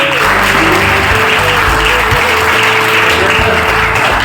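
A crowd at a school gathering applauds loudly and steadily, a dense, continuous patter of many hands clapping close by.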